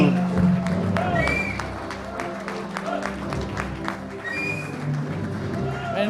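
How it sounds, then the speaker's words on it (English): Audience applause with scattered cheering fills a stage event in Mumbai as a guest speaker is welcomed, steady and dense for the whole stretch, with music and crowd noise blended underneath. "A big round of applause."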